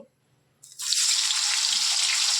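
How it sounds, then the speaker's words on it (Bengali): Paneer pieces dropped into a hot pan break into a loud, steady sizzle after a brief quiet moment, and the frying hiss holds evenly at close range. "তাহলে পনিরগুলো আমরা ভেজে নিচ্ছি"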